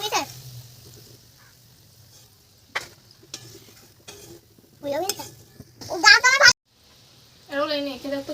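Palm fritters frying in hot oil give a quiet sizzle with light stirring, while people talk over it in bursts, close to the pan.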